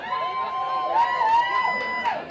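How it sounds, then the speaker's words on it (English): Spectators cheer at a 2012 NexGen Ultimate Tour frisbee game against Vancouver Furious George, with sustained shouts and whoops rising and falling at moderate distance. "Crowd getting loud here."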